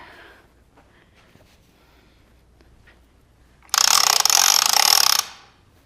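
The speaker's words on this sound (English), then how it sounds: "make sure your machine is ratcheted, because that's an important part there" A quilting frame machine's ratchet is worked in one loud, close burst of rapid clicking lasting over a second, after a stretch of faint background quiet and small handling noises.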